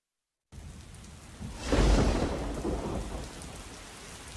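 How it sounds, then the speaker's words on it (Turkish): Heavy rain pours steadily while a deep rumble of thunder swells and rolls for a couple of seconds before fading back into the hiss of rainfall. "Pek çok ilde yağmur etkili oldu."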